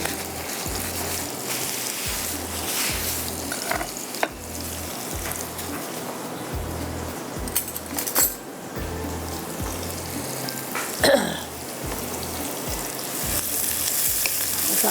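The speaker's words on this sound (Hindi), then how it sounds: "थोड़ा सा ये फ्राई हो रहा है" Chopped onions frying in a pan for a chicken shahi handi, a steady close sizzle with occasional louder crackles and spoon scrapes, under a faint low rhythmic hum and with no one talking.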